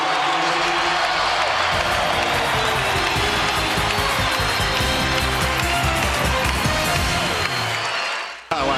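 A basketball arena crowd roars and cheers on its feet for Kobe Bryant during a Lakers versus Raptors game, a loud, dense, continuous wall of noise that cuts off abruptly near the end.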